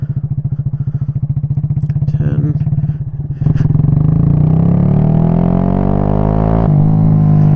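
Big bore Honda Grom (MSX125) motorcycle with a 17-tooth front sprocket accelerating hard in second gear, a loud close engine drone with steady firing pulses that rises smoothly in pitch after a brief dip near the shift.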